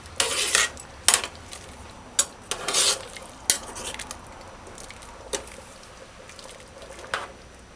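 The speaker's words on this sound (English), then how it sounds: "Stir it in gently." A spoon stirs chicken feet stew with peas in a pot, making irregular loud clinks and scrapes against the metal over a faint, quiet simmer.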